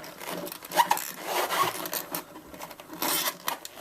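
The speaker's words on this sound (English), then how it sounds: "pull the string back a bit." A nylon ukulele string being pulled through the bridge and tuning peg while restringing a left-handed ukulele, close scratchy rubbing and sliding scrapes in short uneven strokes, fairly loud and without talk.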